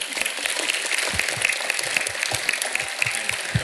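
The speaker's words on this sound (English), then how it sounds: "You can clap for that." Audience applause from a crowd at a Justice League fan convention panel in Philadelphia, a dense steady roar of many hands clapping throughout, fairly loud and sustained with scattered cheers, no talking over it.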